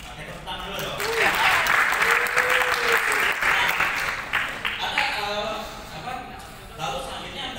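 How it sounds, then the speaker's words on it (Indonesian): A business training audience applauds for several seconds, a loud clapping wash that swells and then thins out, with voices talking over it. "Oke, tepuk tangan dulu dong."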